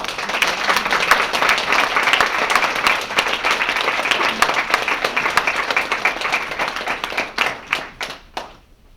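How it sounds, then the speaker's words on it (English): An audience claps for honored guests at a book award ceremony, a full, steady round of applause that thins into a few scattered final claps before fading out. "join me in savoring and applauding the work of our honored guests"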